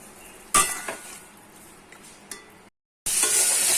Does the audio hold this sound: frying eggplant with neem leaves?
yes